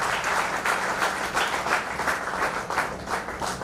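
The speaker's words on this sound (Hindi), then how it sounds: "जोरदार तालियों के साथ अभिनंदन" Steady, loud applause from a large audience at the 88th foundation day ceremony of Janardan Rai Nagar Rajasthan Vidyapeeth in Udaipur, with continuous clapping throughout.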